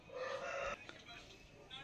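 Aseel rooster crowing, a single faint crow from some distance with a strained, drawn-out call that fades into quiet background noise.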